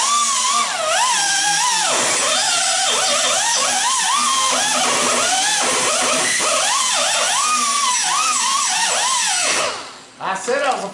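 A flap disc grinder works the metal of a dirt late model race car chassis, its loud continuous whine rising and falling in pitch as pressure changes, then cutting out near the end.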